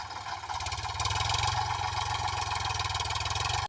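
A tractor engine runs with a steady, close, rhythmic low chugging, holding an even idle before cutting off abruptly at the end.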